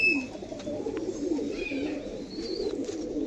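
Pigeons, including white birds with black beaks, coo steadily at a pigeon sale, with soft bird calls layered over a busy low murmur and occasional faint chirps.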